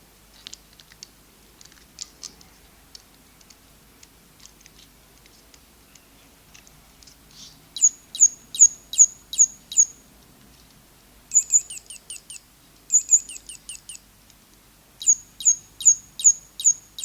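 An electronic bird toy's sound chip gives repeated bursts of thin, high synthetic chirps in quick rhythmic groups, separated by pauses and faint ticking.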